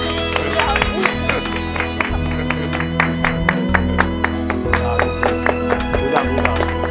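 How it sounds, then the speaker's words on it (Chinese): An audience applauds during a music-scoring competition show, with a dense patter of claps. Music plays underneath and voices mingle in. "鼓掌鼓掌。"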